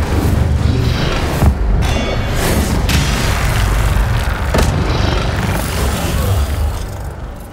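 Incendio fire spell cast repeatedly in Hogwarts Legacy: a dense, roaring blast of flame with heavy booming thuds, loud and sustained across the whole stretch.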